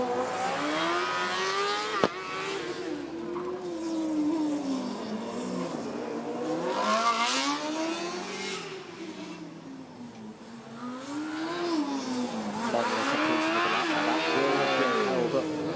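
Formula Student race car at the UK 2019 event threading through a slalom toward Cox Corner, its engine note rising and falling steadily through the turns under continuous commentary.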